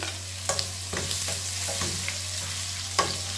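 Garlic frying in hot cooking oil for a chicken adobo with quail eggs, a steady broad sizzle with a few sharp crackles and utensil scrapes near the pan, no talking.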